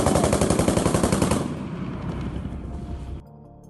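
Rapid autocannon and machine gun fire from a Ukrainian BTR-4 in an animated battle, a dense loud burst of shots that thins out and cuts off near the end.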